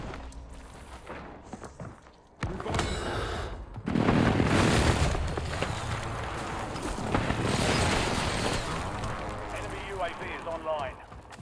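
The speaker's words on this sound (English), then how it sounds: "Hostile airstrike incoming." Hostile airstrike explosions in Call of Duty Warzone, heavy booms and rumbling blasts rolling in one after another, mixed with footsteps, game chatter and a player talking.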